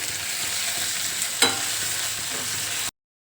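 Vegetables stir-fried in a pan give off a steady, even sizzle, with one clear clack of stirring in the middle, before cutting off abruptly.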